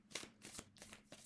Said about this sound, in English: It's a really hard deck to shuffle because it's so big.